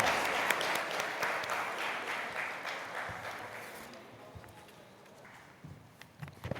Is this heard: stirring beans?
no